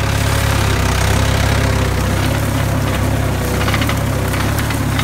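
A brand-new Mahindra 585 DI XP Plus tractor engine runs steadily throughout, a loud, close diesel drone with a rough knocking idle-like pulse and vibration, no voices present.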